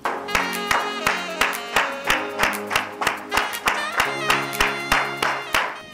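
Rhythmic, thunderous applause at the opening of an assembly session: the crowd claps steadily in unison, each beat loud and close, over a sustained tonal hum.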